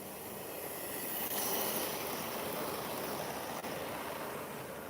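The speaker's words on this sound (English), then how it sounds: "It is a nice diesel. Yeah, we'll just run the Class 35 for now." Model railway Class 35 diesel locomotive running on track, a steady continuous rolling rumble and hiss at moderate level with no distinct breaks.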